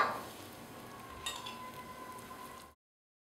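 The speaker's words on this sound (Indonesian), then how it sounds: "Kemudian goreng donat sampai matang kecoklatan." Bomboloni donuts fry in hot oil with a steady soft sizzle and a faint utensil clink partway through, before the sound cuts off abruptly near the end.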